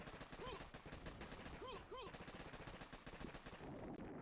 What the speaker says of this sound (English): Mortars. Mortars are mean.